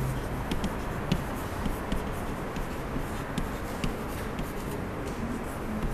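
Writing on a board during a group theory lecture: a steady, continuous scratching and scraping of the writing tool against the board, close and fairly quiet, with no talk over it.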